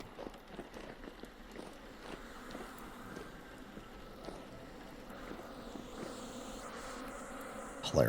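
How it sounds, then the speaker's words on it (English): Angry bees in the Vintage Story video game, buzzing continuously inside a building at a moderate, even level with faint scattered taps and a brief louder knock at the very end. "We actually have indoor bees now."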